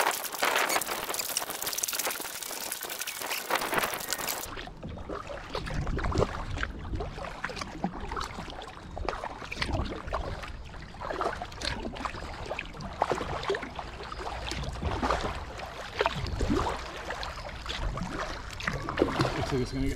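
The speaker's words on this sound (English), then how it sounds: "I'm like half paddling the whole way." A canoe or kayak is paddled through the shallow Flat River near Lowell, Michigan: close, irregular water splashes and strokes over a hiss of moving water and light wind, with occasional voices.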